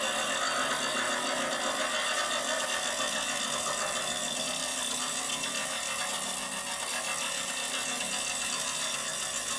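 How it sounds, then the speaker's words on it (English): A woodturning lathe spins a live-edge crotch piece while a tool shear-scrapes the wood, a steady, continuous, dense scraping hiss close up with no talk. "Shear scraping gets rid of a lot of those tool marks that you might get."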